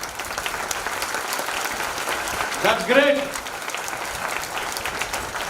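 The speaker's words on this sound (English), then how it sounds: "Big round of applause for all your role models, for all those people who have inspired you" Applause from a student audience at a Pune institute event, a moderate, continuous patter of clapping with a brief spoken exclamation from a man partway through.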